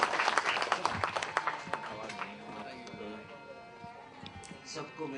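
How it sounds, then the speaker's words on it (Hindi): Applause welcomes a guest at a mushaira poetry gathering, with dense, lively clapping at the start that thins and fades as a voice takes over with a faint tonal background. "आप लोगों से गुजारिश है कि जोरदार तालियों से उनका इस्तकबाल कीजिए।"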